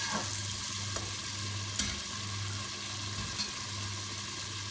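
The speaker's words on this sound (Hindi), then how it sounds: "अब इसको अच्छी तरह फ्राई कर लेंगे।" Gosht pieces frying in a pan give off a constant, fairly quiet sizzle, with a low hum in the background and one or two faint clinks.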